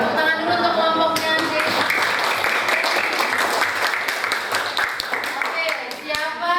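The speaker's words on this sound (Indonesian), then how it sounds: "Tepuk tangan dulu untuk kelompoknya" Classroom students clap for a presenting group during a teaching session, dense loud applause that swells after a brief spoken greeting and carries on steadily, with voices partly over it.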